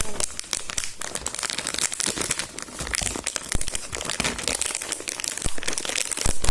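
A foil bag inside a box of Choco Puff chocolate snacks crinkles and crackles continuously as it is handled and opened, with close, dense rustling bursts throughout and no talking.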